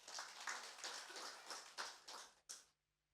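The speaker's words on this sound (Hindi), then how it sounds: "जोरदार ताली अपने प्रभु को दे दे।" A church congregation at a Hindi Sunday service claps in rhythmic bursts of roughly even beats, fairly faint and distant, ending with one last clap before quiet.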